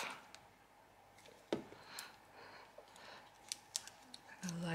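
Scissors snipping delicate lace flowers for a scrapbooking layout, a few quiet sharp cuts and clicks close by over soft background noise.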